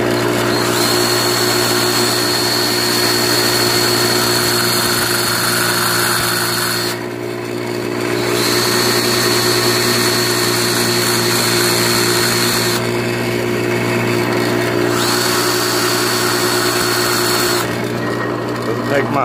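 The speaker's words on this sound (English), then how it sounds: "I chamfer the end just a little bit so the dye nut goes on." A power tool chamfers the end of a steel diesel injection line being fitted from a VP44 to a VE rotary pump, a steady, loud, close whine that runs continuously with brief dips in pitch and level.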